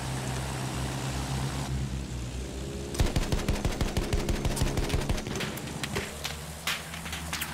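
Sustained machine-gun fire in Battlefield 1, a rapid, steady string of loud close shots hammering out for several seconds over droning engine and battle ambience, then fading into scattered distant shots.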